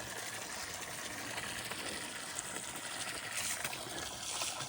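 Water runs steadily as it trickles into a filling tank in an outdoor animal area, a continuous close splashing hiss without talk.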